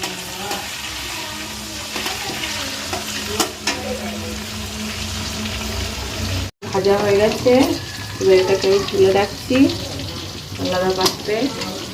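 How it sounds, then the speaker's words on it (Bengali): Frying sizzle of steamed beans and other vegetables in a pan with clinks of a utensil stirring, a brief break midway, then busier scraping and sizzling. "ভাপানো শিমগুলো অল্প করে ভেজে নেওয়া হচ্ছে"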